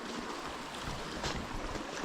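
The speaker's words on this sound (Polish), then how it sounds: "woda" Water flows in a mountain forest stream, a steady, dense rushing and splashing up close that fills the whole moment without pause.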